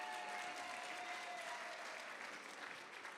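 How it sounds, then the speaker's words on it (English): An audience at a community day opening claps for Reverend Nelson, a continuous, even spread of many hands applauding from a distance, fairly faint and sustained to the end. "Y'all can clap for him."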